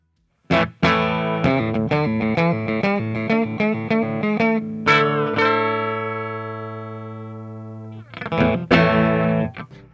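A 2020 Fender Brent Mason Signature Telecaster plays through an amplifier with chorus and distortion, a quick run of picked notes, then a long ringing chord and a brief strum.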